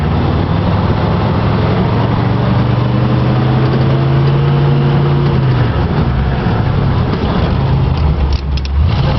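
A 1975 Ford Bronco with a 351 Windsor V8 and NP435 manual gearbox drives close by with a loud, steady engine drone that climbs in pitch, then drops as it shifts gear, over rough road noise.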